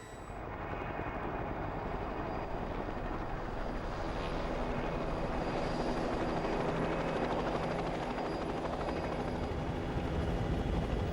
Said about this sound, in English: the best way to do that is from a helicopter